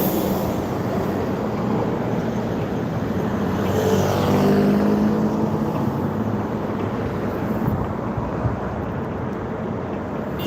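Steady urban traffic at a Jerusalem intersection near Bar Lev Road, a continuous close rumble of cars with one vehicle swelling past midway.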